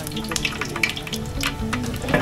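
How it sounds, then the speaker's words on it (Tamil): Cinnamon, cloves and bay leaves dropped into a large biryani pot and stirred, with a wet sizzle and clinking, scraping strokes running steadily throughout. "பட்டைக்கிராம்பு இலக்கெல்லாத்தையும் போட்டு ஒரு கிண்டு"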